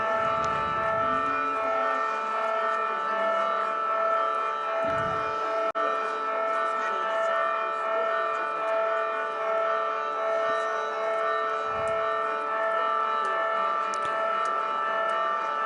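Festive church bells ring during the Saint Anthony procession in Arbus, a continuous, resonant wash of sustained tones that stays fairly even in loudness, with a few brief low rumbles.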